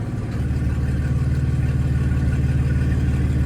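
A BMW G80 M3 Competition with its exhaust valves open rumbles close up at a steady idle. The note is deep and throbbing, with a low, even burble and no talking.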